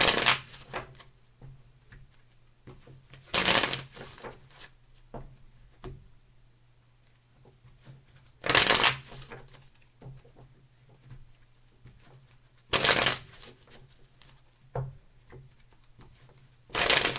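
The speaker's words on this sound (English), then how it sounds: "Two more shuffles, please." Tarot cards are shuffled in several short, crisp riffling bursts spaced seconds apart, with softer handling rustles and taps between them and a faint steady hum underneath.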